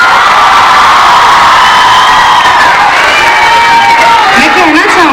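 Crowd cheering and whooping with applause at a cultural dance event, a loud continuous roar of many voices with shouts rising near the end.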